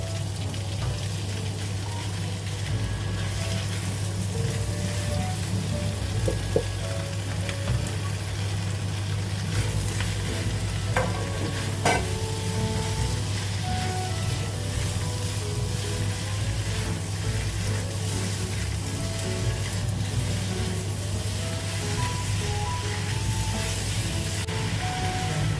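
Bean curd sheet frying in a pan for a Chinese vegetarian dish, a steady close sizzle holding evenly throughout with a low hum beneath and a couple of small clinks.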